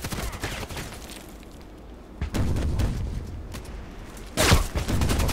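RFB rifle fire in Contract Wars comes as scattered sharp shots and bursts, a loud cluster at the start, a quieter stretch, then another heavy burst near the end over steady combat ambience.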